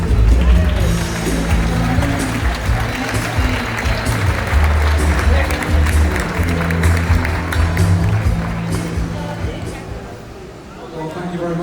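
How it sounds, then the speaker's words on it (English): An audience aboard the Sun Princess cruise ship applauds the captain at an elite platinum event, with loud, sustained clapping mixed with crowd murmur and a low rumble that fades slightly toward the end. "please give a nice applause for our main host this evening"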